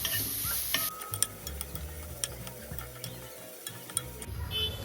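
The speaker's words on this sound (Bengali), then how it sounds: "এবার এটা ভালো করে নেড়ে নিতে হবে যাতে ভালো করে নুন আর হলুদটা মিশে যায় পেঁপের সঙ্গে" A spoon stirs papaya with salt and turmeric in a pan, producing scraping and clinking strokes over a soft sizzle, with a few sharper utensil taps; no voices.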